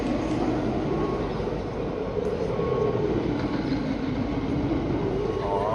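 The Colossus roller coaster runs on a test circuit, giving a continuous loud rumbling roar of wheels on track that holds steady throughout, much like a passing train.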